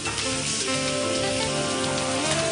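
Risotto with chopped courgette and rice sizzles loudly and steadily in a hot pan as white wine is poured in, a dense continuous hiss with faint background music and no speech.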